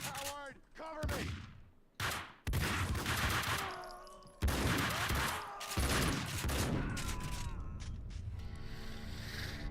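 Gunfire erupts in the video game Max Payne, with bursts of rapid shots and mechanical clatter packed densely together, loud and close, and a voice breaking in between volleys.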